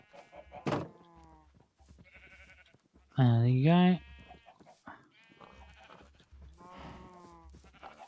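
Sheep bleat in a block-building survival video game, one loud wavering cry standing out among shorter, softer baas, while someone talks over the animals.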